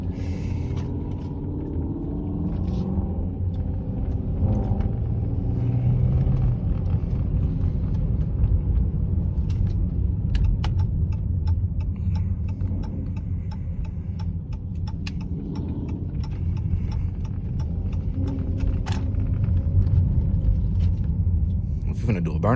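A Dodge Charger Scat Pack's engine rumbles steadily and loudly throughout, a deep continuous drone with scattered ticking and clicks on top, nearby and unbroken.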